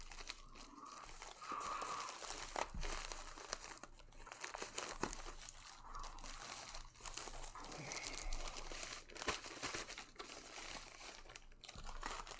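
A flat rate mailing envelope being handled and sealed, close crinkling and crumpling of paper and plastic with scattered sharp crunches and taps, quiet and continuous.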